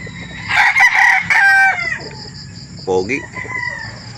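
Gamecock roosters at a chicken market in Calauan, Laguna crow loudly and close, one long cock-a-doodle-doo followed by shorter crows and clucks amid faint market background noise.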